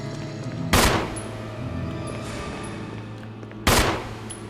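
Two sharp pistol shots in the Resident Evil video game, about three seconds apart, each a loud crack with a short decaying tail over a steady low hum of game ambience.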